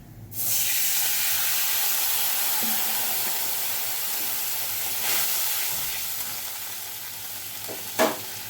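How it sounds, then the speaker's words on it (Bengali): Water splashes into hot oil holding dried red chilli and bay leaf, giving a sudden loud hiss that stays as a steady, broad sizzle. Short stirring scrapes come through, and a brief louder spit comes near the end. "আমি প্রথমে তেলের মধ্যে একটু জল দিয়ে দিচ্ছি।"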